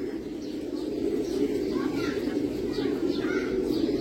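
Female pigeons coo continuously in a loft, a low steady murmuring with faint chirps above it, alongside talking.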